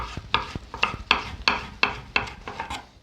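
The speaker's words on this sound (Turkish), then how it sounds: "Bonfilenin bütün parçalarını gördüğünüz gibi karışık bir şekilde doğruyorum" A knife chops beef tenderloin into thin julienne strips on a cutting board for a homemade döner-style wrap: about nine crisp, evenly spaced strokes, close and clear, with no one talking.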